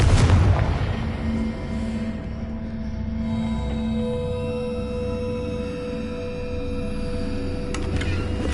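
A Confringo blasting spell goes off in Hogwarts Legacy, a heavy booming explosion at the start that decays into a rumbling, ringing tail with faint game ambience behind it.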